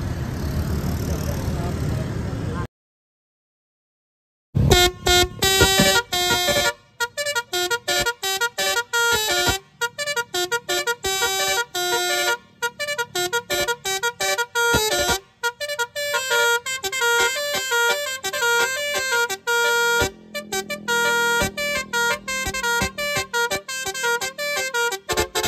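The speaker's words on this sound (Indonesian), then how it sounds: "Sekarang langsung aja kita spill bunyi dari corong basuri ini ketika mobilnya berhenti" A basuri horn fitted to a parked Suzuki Baby Vanza van plays a loud melodic sequence of rapid, stepped tones in quick bursts and pauses after a brief silence, with speech heard at the start.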